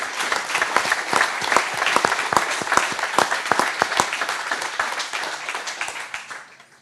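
An indoor audience at a fitness gym event applauds a panel, dense crowd clapping that stays steady then gradually fades out toward the end.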